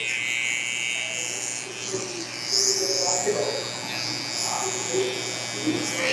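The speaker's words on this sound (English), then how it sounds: "we flip the trimmer over and cut all this excess off" An electric hair trimmer cuts away excess hair during a low taper fade haircut, giving a steady close buzz with small shifts in pitch as the blade moves, continuous throughout.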